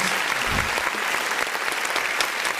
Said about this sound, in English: There's a long applause.